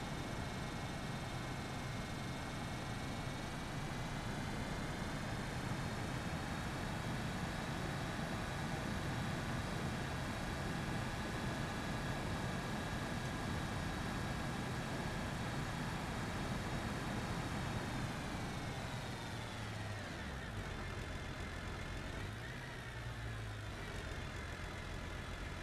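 Car engine idling and droning steadily in the driving game BeamNG.drive, heading toward a dockyard; a continuous loud hum with rising whine that drops off and shifts near the end.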